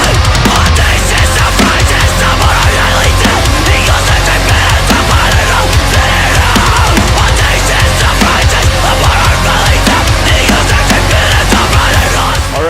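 Metal song plays loud and dense throughout, with heavy distorted guitars, pounding drums and a constant driving wall of sound.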